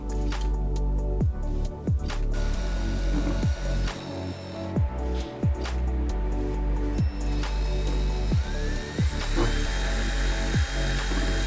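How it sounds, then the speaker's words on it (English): A power drill bores a hole to fix the stands of a homemade room heater, producing a loud, steady mechanical whine with repeated ratcheting bursts close by. "We have to drill a hole to fix these stands."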